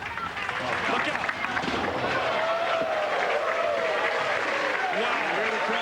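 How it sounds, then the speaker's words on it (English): Bowling crowd at the 2005 PBA Birmingham Open erupting in sustained cheering and applause, a dense steady wash of clapping and shouts that stays loud throughout, with voices mingled in the babble. "Here the crowd's reaction."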